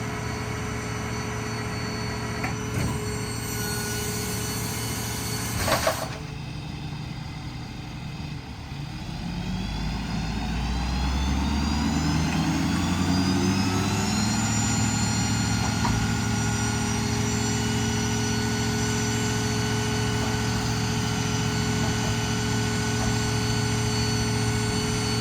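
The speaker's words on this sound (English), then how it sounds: "We'll let that winch down a little bit." A hydraulic winch on an IMT 3820 crane mounted to a 2011 Ford F-550 diesel truck whines steadily over the idling engine, then rises in pitch and volume as it runs faster and holds a continuous drone.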